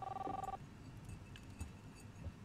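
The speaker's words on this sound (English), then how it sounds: "Phone ringing." In the video game Life is Strange, a telephone gives a short electronic ring at the very start and then stops, leaving quiet room ambience.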